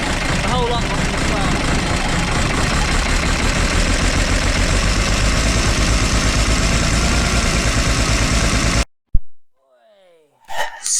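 A freshly rebuilt engine cranks and fires, then runs steadily at a loud, constant idle for about nine seconds before cutting off abruptly, followed by brief faint rustling.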